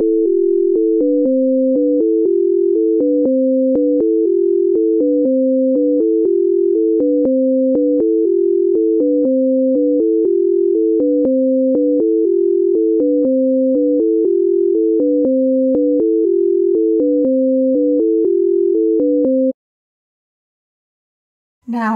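Pure electronic tones alternate high and low in a steady, regular stereo pattern, the octave illusion of a musical illusion demonstration, repeating for about twenty seconds before stopping abruptly.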